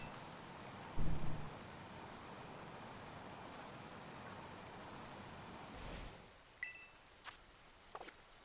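Steady rain hisses across Paldea in a Pokémon video game, a broad even wash with one low thump near the start; the rain cuts out after about six seconds, leaving a few short chimes and clicks.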